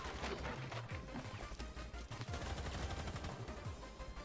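Rapid gunfire from the video game Rainbow Six Siege, dense bursts of shots crackling continuously throughout with a busy, chaotic battle texture and no talk.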